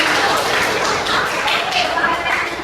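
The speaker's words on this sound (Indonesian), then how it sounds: "tepuk tangan untuk kalian" A class of students claps in unison in the classroom, a steady dense patter of hands held at even loudness throughout, with some voices mixed in.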